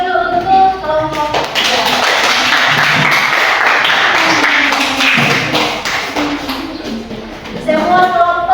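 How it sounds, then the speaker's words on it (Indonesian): A classroom group in Gorontalo receives a round of applause after presenting: steady, close clapping from many hands lasting several seconds, with speech heard just before and after. "Berikan aplaus dulu untuk kelompok"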